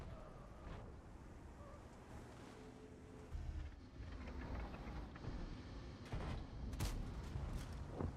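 Tank cannon fire from a Leopard 1 in a combat video game, a booming shot with a sharp burst near the end over steady rumbling battle noise, with the engine droning throughout.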